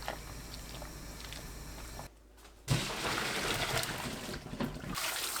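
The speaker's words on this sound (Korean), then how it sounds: "찬물에 2~3번 헹굽니다." Blanched chard being rinsed in cold water, soft trickling and sloshing water with wet squishing of leaves, close and moderate, pausing briefly midway.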